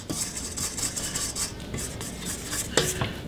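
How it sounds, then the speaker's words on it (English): A spatula scrapes around the sides of a mixing bowl of brownie cheesecake batter, giving a run of close, rhythmic rasping strokes with one sharper knock near the end and no talking. "my sides are scraped really well."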